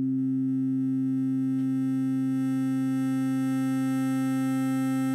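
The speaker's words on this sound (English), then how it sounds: "as I turn it up, we'll hear the sidebands" An OP-1 Field synthesizer holding a steady, pure sustained tone as amplitude modulation between oscillators is turned up, faint extra sideband tones slowly creeping in above the drone, alone without any talking.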